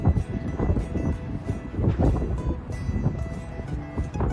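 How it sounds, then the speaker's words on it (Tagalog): Strong wind at Cardiff Castle buffets the microphone in a loud, low, continuous rumble with gusty swells, and no clear voices are heard. "It's windy."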